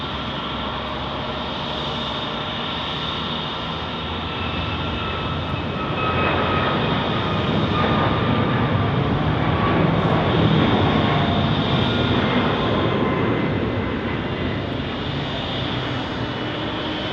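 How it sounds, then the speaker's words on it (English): Alaska Airlines Boeing 737 MAX jet at Phoenix Sky Harbor International Airport, a steady broadband engine roar with whining tones that swells toward the middle and holds loud throughout, no talk. "Alaska Airlines is next, going to Seattle on a MAX."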